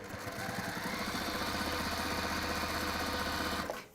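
A sewing machine stitches a straight line through lining and batting, running steadily and close for nearly four seconds before stopping, with no voices over it.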